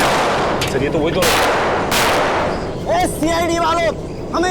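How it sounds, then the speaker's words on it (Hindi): A few sharp gunshots crack out in quick succession inside a crowded mall, followed by someone speaking loudly in Hindi. "संभाल के गोली चलाना, काफी लोग हैं।"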